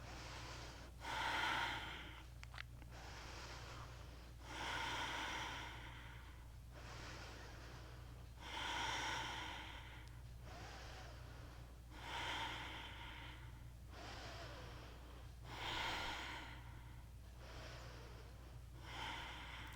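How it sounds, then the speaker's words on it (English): Slow, deep breaths from a yoga class, each inhale and exhale audible in a steady rhythm of about eight cycles, close but soft over a faint hum. "breathing deeply here."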